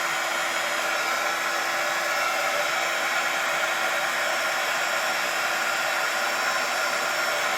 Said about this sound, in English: sorry for the noise, but I will show you the magic of heat embossing